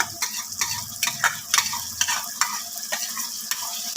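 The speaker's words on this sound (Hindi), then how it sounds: "मीडियम टू हाई फ्लेम पे इन सब चीज़ों को भून लेंगे" Spice paste with yogurt frying over a high flame for a spicy mutton aloo qeema, a steady close sizzle broken by repeated sharp scrapes of a spoon stirring the pan, no voices.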